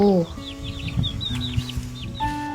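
A chicken clucks in a short run of calls within a Thai kindergarten children's song, set over sustained musical tones.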